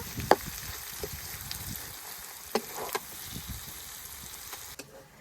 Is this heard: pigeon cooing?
no